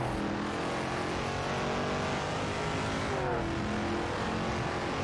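Race cars in a racing game, a Chevrolet Camaro Z28 and a Bizzarini 5300 GT Strada, drone with steady engine roar, one car's pitch sweeping during a pass, loud and continuous.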